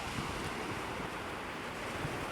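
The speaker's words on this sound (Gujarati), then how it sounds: "પાણીના તરંગો વચ્ચે હોડી ધીમેથી આગળ વધે છે." Sea waves and wind at a morning shore with small fishing boats, heard as faint, even broadband wash and a steady breeze.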